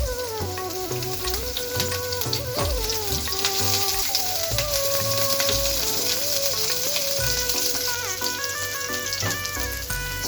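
Vegetables frying in hot oil in a saucepan, a steady, dense sizzle that crackles continuously throughout, with music playing underneath and no talking.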